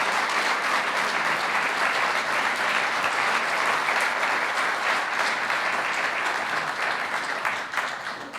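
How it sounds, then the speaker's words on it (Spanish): Sustained, dense audience applause welcomes a speaker at a conference hall, loud and even for several seconds before tapering off at the end. "recibiéramos a nuestro muy querido amigo Ignacio Valle con un muy fuerte y caluroso aplauso"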